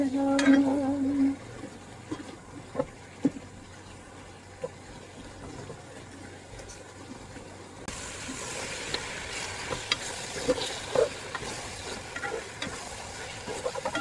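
Fish cake and chili paste being stirred in a pan, giving soft scraping and faint sizzle through the clip, with a brighter, hissier stretch in the second half and a few light knocks.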